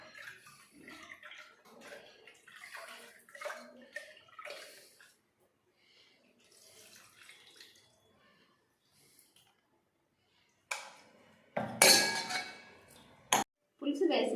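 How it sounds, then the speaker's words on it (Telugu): Hands squeeze tamarind pulp out in water while making okra (bendakaya) pulusu, giving wet squishing and clinking that grows loud and close near the end after a quieter stretch with voice-like sounds. "ఇంకొకసారి కొంచెం నీళ్ళు వేసి నేను చింతపండు గుజ్జు తీస్తున్నాను"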